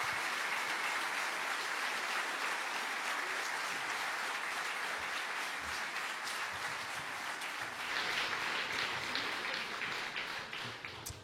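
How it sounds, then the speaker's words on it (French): An audience at a political evening meeting in France applauds warmly, a continuous wash of clapping from a full room that holds steady throughout and swells slightly near the end before tapering. "c'est celui de François Piquemal, que je vous demande encore une fois d'applaudir chaleureusement."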